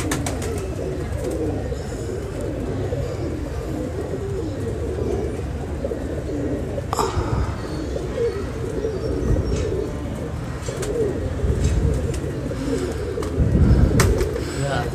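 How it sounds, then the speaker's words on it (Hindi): Pigeons coo softly amid shuffling and fluttering movement, a steady low murmur of birds close by with a few sharp knocks and rustles scattered throughout. "ये देखें कबूतर चल पड़ा है नीचे को।"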